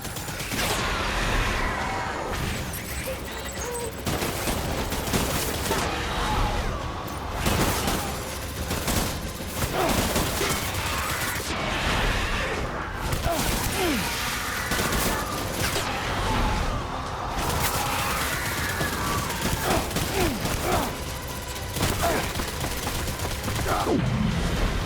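Dense gunfire in the video game Death Stranding, loud, rapid overlapping shots and bursts that run continuously with crashes and impacts mixed in and no speech.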